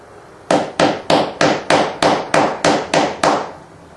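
A hammer strikes part of an antique stick-and-ball easel to flatten it, ten sharp, evenly spaced blows in quick succession, close and loud.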